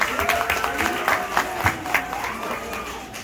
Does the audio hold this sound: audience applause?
yes